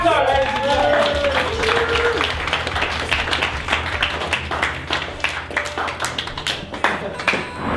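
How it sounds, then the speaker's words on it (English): Audience applause for speaker Jamie Catto at the Inspiring Minds Forum: a dense crowd clapping throughout, loud and steady with sharp individual claps standing out toward the end. "Clap for Jamie Catto, ladies and gentlemen."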